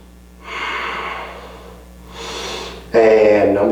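Deep, audible breaths during a yoga pyramid pose, with two slow drawn-out inhales or exhales followed by a sharper, louder breath, close and alone.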